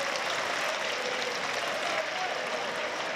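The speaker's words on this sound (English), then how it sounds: "So the crowd are clapping around us inside the Stadium of Light." Continuous applause from a large football crowd filling the Stadium of Light during a player's lap of honour at a Sunderland match, a dense steady wash of clapping all around, loud and unbroken.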